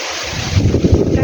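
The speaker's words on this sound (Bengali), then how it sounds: "জড়ো হাওয়া দিচ্ছে সাথে বৃষ্টি হবে মনে হচ্ছে" Strong gusty wind roars into an outdoor microphone ahead of an approaching rainstorm, a steady loud rush with buffeting swells and no voices.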